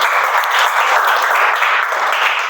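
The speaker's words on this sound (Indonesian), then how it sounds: "tepuk tangan untuk Marani dulu" Steady group applause fills a classroom as students clap together for a classmate, a dense continuous patter throughout with no talking over it.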